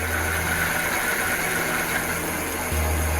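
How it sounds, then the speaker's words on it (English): Steady, low motor hum and mechanical whir from an electric bike's hub motor engaging under power, close and continuous, with a shift in the low drone near the end. "If you could really hear that motor engage when you give it power."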